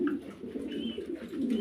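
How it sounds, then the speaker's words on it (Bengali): Pigeons, a pair kept with chicks and eggs for sale, coo in soft low repeated murmurs, faint and close, with no voices. "এক জোড়া কবুতর"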